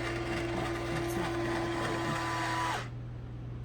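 A vacuum sealer running its cycle on a pouch of potato flakes: a steady loud motor hum with a whining tone that cuts off sharply near the end, leaving quieter background noise.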